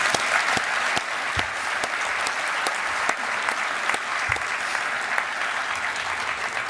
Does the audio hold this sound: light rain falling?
no